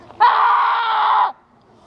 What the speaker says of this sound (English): I just leave for like a minute and I already hear screams.